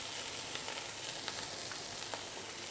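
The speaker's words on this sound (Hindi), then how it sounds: "इसे अच्छे से थोड़ा भून लेंगे इसे।" White part of green onion frying in a pan, a dense, continuous sizzle close by with faint scattered pops and stirring, no voices.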